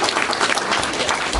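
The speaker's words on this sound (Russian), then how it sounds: "ты просто заслужил такие одобрительные аплодисменты женской части человечества" Approving applause from the women in the audience at a roundtable discussion, a dense burst of clapping filling the moment close and loud, with no speech over it.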